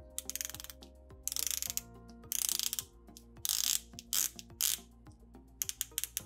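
The ceramic bezel of a 42mm Rado Captain Cook bronze dive watch is turned in several short bursts, each a rapid string of crisp, notchy clicks, quiet and very close, with pauses between turns.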